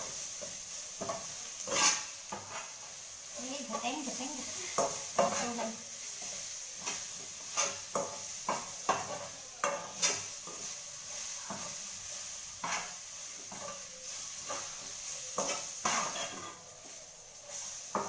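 Onions sizzling in hot oil in a pan while preparing bottle gourd leaf chutney. A steady hiss runs under repeated scraping stirs, with utensil clinks recurring irregularly and close by, and no talk.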